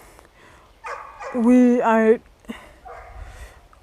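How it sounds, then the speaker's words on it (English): A pet dog barks and whines in a drawn-out, rising-and-falling yowl close by, between stretches of a person talking. "if you can hear that barking, that's my dog"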